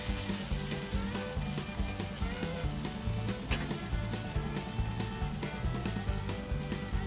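Meatballs crisp on a Blackstone flat-top griddle with a dense, continuous sizzle and crackle of frying fat, steady and close, with no talk over it.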